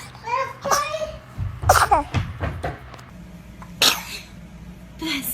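Babies sneezing several times in quick succession, sharp bursts mixed with small child vocalizations and adult voices speaking nearby, close and fairly loud.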